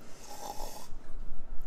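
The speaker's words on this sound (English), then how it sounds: "I came up to get a little video of him snoring" A man snoring, one long rough rasping inhale heard close and fairly loud, followed by breathy rumbling.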